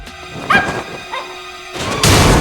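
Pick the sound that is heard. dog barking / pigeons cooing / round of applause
dog barking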